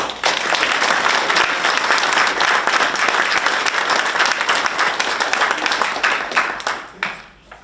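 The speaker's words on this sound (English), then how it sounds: "We have another round of applause for the children" Warm, dense applause from an audience at a Veterans Day commemoration, honouring the children, holding steady and then tapering off at the end.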